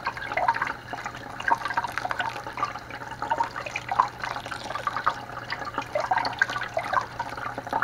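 Water running over rainbow trout caviar to rinse off salt, a steady trickling splash with small bubbling and dripping sounds, continuous and close.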